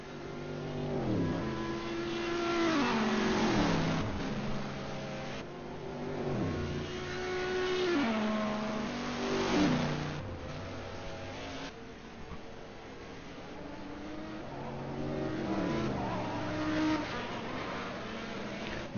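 A C60 Judd prototype race car in a sim racing game at Road America, its engine revving up and down through gear changes continuously, loud and close, with repeated rising and falling pitch sweeps.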